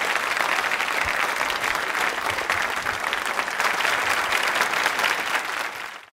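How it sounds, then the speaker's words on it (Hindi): Loud, sustained applause from a large audience at a quiz show event, dense and steady throughout before cutting off abruptly at the end. "एक बार जोरदार तरीके से तालियां जोरदार बजनी चाहिए।"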